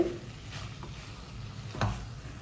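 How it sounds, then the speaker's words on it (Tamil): Soya chunks and potato gravy sizzle quietly in a pan while a spoon stirs them, making a few soft scraping strokes over the steady low frying hiss. "நல்லா அப்படி கிளறி கிளறி விடுங்க"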